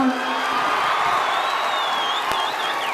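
Mushaira audience in Nanded responds with a thin, steady wash of applause and cheering, a few whoops rising above the crowd noise, fairly even and sustained without any clear peak.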